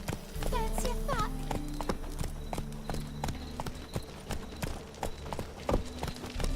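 Hooves of a horse clip-clop at a quick, even pace in The Witcher 3 video game, with a short whinny near the start and voices talking over the steady rhythm.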